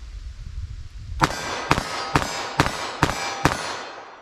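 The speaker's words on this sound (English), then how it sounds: "I'm gonna just fire as fast as I think I can hit the target and see where these things land for me" Six rapid, evenly spaced reports from a .357 Magnum revolver firing light handloads, sharp and loud, each with a ringing metallic edge, following a brief quiet lull.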